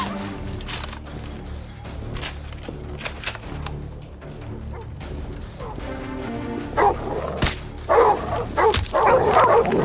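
Dogs on patrol in the video game Call of Duty Modern Warfare 2 Remastered bark and yip repeatedly, loud and close, over a dense game soundscape with a crash near the end.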